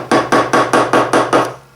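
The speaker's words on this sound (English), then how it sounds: "use a dead blow hammer to tap it gently in a couple of places here" Seven evenly spaced, dull thuds from a dead blow hammer tapping a Suzuki RF900 engine part during camshaft installation, each blow close and solid, in a quick steady rhythm.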